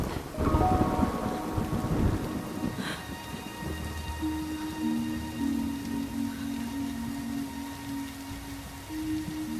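Rain with thunder in an outdoor monsoon setting, a low rumble of thunder early on fading into a steady wash of rainfall, with music playing over it throughout.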